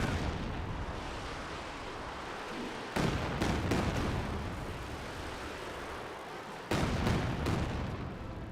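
Heavy artillery shells land in repeated thunderous impacts during a Company of Heroes 2 battle, two clusters of booming hits over a constant rumbling backdrop.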